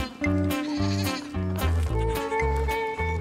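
Goats on a Chilean herder's farm bleat loudly and almost without pause, their wavering, nasal cries overlapping in a steady run of calls with no talking.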